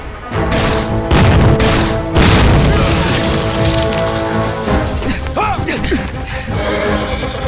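Loud gunfire from small arms, with no heavy weapons, in a war film: dense bursts of shots crack and boom near the start, followed by a sustained, rumbling battle din with scattered mechanical clatter.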